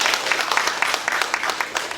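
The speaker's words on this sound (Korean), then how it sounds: "우리 위로의 박수 드리겠습니다." Congregation applauding in a church during a Sunday thanksgiving service, steady dense clapping for about two seconds with no talk over it.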